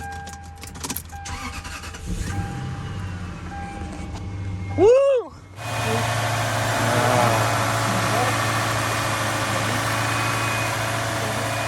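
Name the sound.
Lexus GS 430 engine starting and idling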